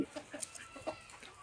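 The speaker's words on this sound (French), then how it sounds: "Et les poulets." Farm chickens clucking in a poultry yard, several short soft clucks and calls in an irregular rhythm, fairly close, with no voices.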